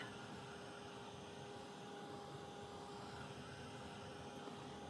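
Steady, even rush of blown air with a constant whine, continuous and unbroken, with no voices.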